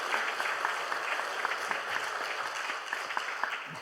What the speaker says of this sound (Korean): 우리 한번 따뜻한 환영의 박수를 한번 해주시면 좋겠습니다.